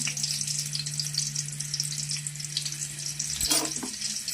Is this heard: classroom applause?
no